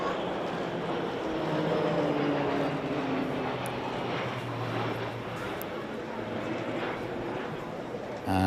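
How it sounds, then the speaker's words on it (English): Embraer Phenom jet and two Texan turboprop trainers fly over during the Trooping the Colour ceremony, a steady loud engine roar with crowd noise underneath. "Phenom and the 2 Texans fly over"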